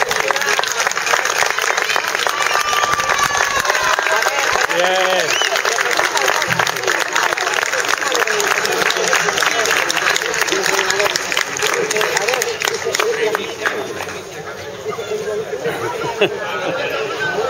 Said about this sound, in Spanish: Y un aplauso para Llodio y un aplauso para Galicia